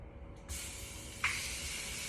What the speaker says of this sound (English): Throw it right in the searing hot pot pan. Just let that cook.